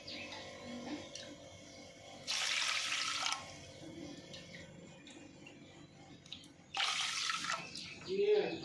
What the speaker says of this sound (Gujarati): હવે આપણે એમાં પોણા 4 વાટકા પાણી ઉમેરી દઈશું।